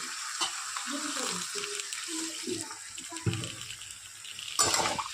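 Katla fish curry base of chili powder and spices sautéing in a pan, with a steady broadband sizzle and scattered scraping stirs throughout, and a louder burst of frying near the end.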